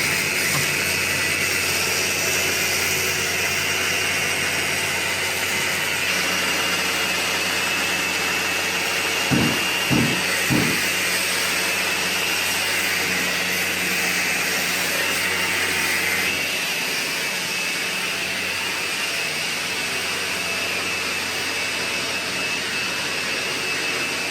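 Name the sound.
floor sander sanding wooden floor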